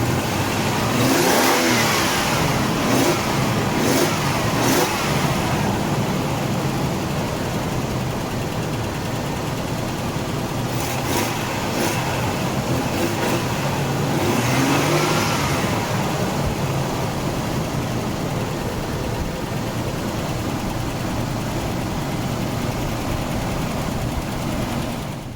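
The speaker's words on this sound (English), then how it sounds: "there actually is a noticeable sort of growl to the engine and the intake." A first-generation Nissan Xterra 4x4 with a modified intake revs and growls up close, its engine rising in a few sharp bursts before settling into a steady, loud drone.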